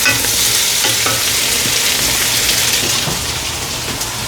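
Chopped tomatoes tipped into a hot frying pan and stirred, a loud steady sizzle with scraping stir sounds running throughout, no voices.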